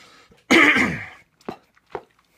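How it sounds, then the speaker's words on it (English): A man clears his throat once with a loud, rough rasp, followed by two short, quieter throat sounds after brief pauses. "just gotta clear my throat because I've been eating a lot for supper."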